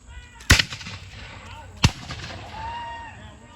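Two sharp musket volleys crack out at a battle reenactment on an outdoor farm field, spaced over a second apart, each followed by echo and a murmur of distant voices.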